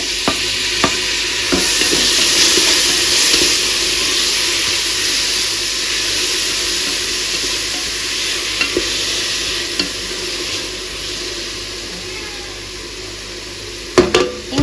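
Coriander and mint leaves are stirred into a hot frying pan for tomato bath, giving a steady, loud sizzle with scraping spoon strokes throughout and a sharper clatter near the end.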